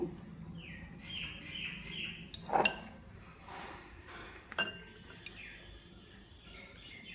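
A metal spoon clinks and scrapes against a bowl while scooping ripe mango pulp, with a few sharp taps and scrapes heard close by against a quiet kitchen background.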